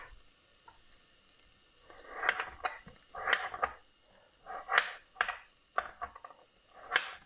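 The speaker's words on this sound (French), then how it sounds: "je mets directement dans ma casserole. Et je mélange au fur et à mesure un petit peu pour ne pas que mon oignon soit trop qu'il noircisse" Onion sizzling in a pot while stirred, soft frying hiss punctuated by repeated scraping strokes of a utensil every second or so, close and fairly quiet, no talk.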